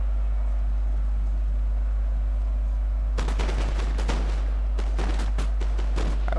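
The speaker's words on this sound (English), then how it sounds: "And there's the shooting in the big melee." Musket volleys crackle in a large melee in Napoleon: Total War, with an Ottoman Empire vs. France battle. A low hum comes first, then dense irregular bursts of sharp shots from the midpoint on.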